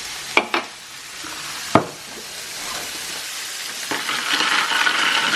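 Coke Zero stirred with a plastic fork: a few sharp clicks and taps against the container, then a steady fizzing hiss of carbonation that grows louder toward the end.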